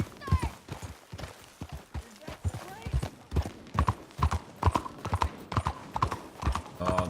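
A horse in Red Dead Redemption 2 on Xbox One X trots with steady, close clip-clopping hoofbeats across the whole stretch, and a person talks over the hooves.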